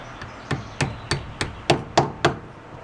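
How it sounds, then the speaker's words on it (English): A pick being hammered into the transmission of a Cub Cadet tractor with a failing transmission: eight sharp metallic blows spaced at a steady rhythm, close and fairly loud, with no talk. "we're going to go see if we can just kind of go hammer that sucker in there through it and then pry."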